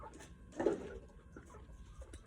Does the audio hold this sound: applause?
no